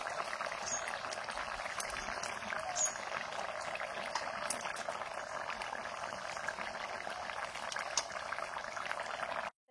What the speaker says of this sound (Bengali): মাছের ঝালটা ফুটে গেছে, এবারে মাছ দিয়ে দিচ্ছি।